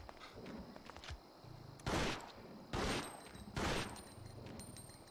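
Three sharp gunshots ring out about a second apart in Biohazard Outbreak File 2 on PS2, loud bursts over a low rumbling game background with faint footsteps.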